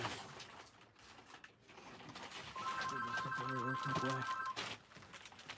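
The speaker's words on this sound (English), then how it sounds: "Hey, I got to take a phone call." A telephone rings with a steady electronic trill lasting about two seconds, clear and fairly close, while background chatter and room noise continue around it.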